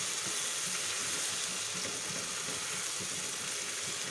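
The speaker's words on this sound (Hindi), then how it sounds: "ये देखें तो माशाल्लाह कीमा बहुत अच्छे से फ्राई हो रहा है।" About half a kilo of minced meat (keema) fries in masala with no water added, giving a continuous, even sizzle and hiss that stays steady and close throughout, with no voices.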